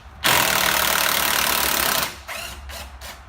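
A power screwdriver undoes screws on a Tekplas plastic whelping box and puppy playpen, one loud continuous whir of about two seconds followed by three shorter bursts, close up.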